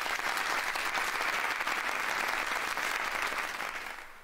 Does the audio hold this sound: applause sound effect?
yes